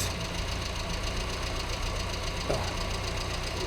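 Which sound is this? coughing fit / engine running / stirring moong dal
engine running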